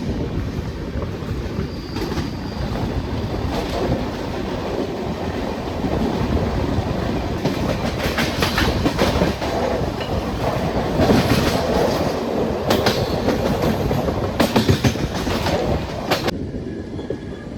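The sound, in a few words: Thiruvananthapuram Central Express train running on rails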